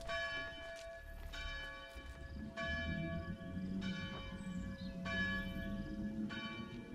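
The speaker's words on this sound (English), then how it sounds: "Now the alarm bells are ringing." Alarm bells ring in the video game Assassin's Creed Shadows, with resonant, bell-like strikes repeating roughly every second over a low rumble of game ambience.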